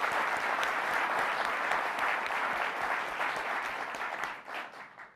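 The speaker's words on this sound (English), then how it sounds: "If I could get everybody to please give Will a big round of applause." Audience applause for an event participant, a steady dense round of clapping that holds strong for about four seconds before thinning and fading toward the end.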